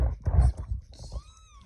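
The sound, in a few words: cat meowing after giving birth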